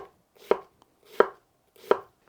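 Three crisp push chops of a bunka knife cutting through food onto a cutting board, evenly spaced about two-thirds of a second apart, close and clear with nothing else heard.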